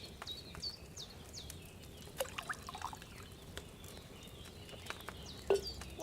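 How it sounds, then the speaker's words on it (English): Wine being poured into a cauldron in the video game Kingdom Come: Deliverance 2, heard as a faint, soft trickle with small splashes over quiet ambience and occasional bird chirps. "So, what did you pour in there? Wine, of course."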